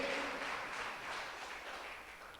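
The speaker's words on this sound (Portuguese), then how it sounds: "Aplauda aquele que é digno de toda honra, toda glória, todo louvor." Dense, steady clapping from a church congregation fills the space, a continuous wash of applause at moderate volume.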